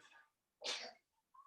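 A single sharp sneeze from a child, preceded by a brief inhale and followed by a faint sniffle.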